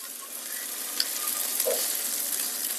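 Pork chops frying in a pan, a steady close sizzle and crackle with a few sharper pops, sustained evenly throughout.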